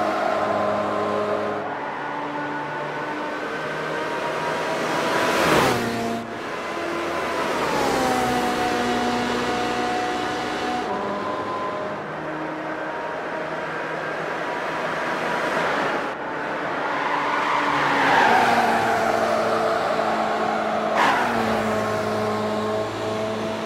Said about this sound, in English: 2009 Ferrari 458 Italia from Gran Turismo 5, and we're running at the Indianapolis Super Speedway